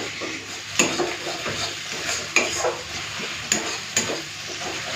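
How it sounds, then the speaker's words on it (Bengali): Ginger and garlic paste frying with dried chilli paste in hot oil in a home kitchen, a continuous close sizzle with sharp spatula scrapes and clinks against the pan every second or so. "আদা রসুনটাকে একটুখানি ভেজে নিই"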